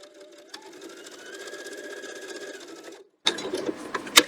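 A sewing machine stitches for about three seconds, then stops briefly before a burst of clicks and rattles.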